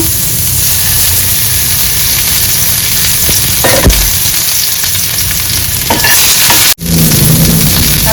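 Oil sizzles loudly and steadily in a pan while dried bombil curry is cooked, a dense frying hiss with a few brief clatters and a sharp knock near the end.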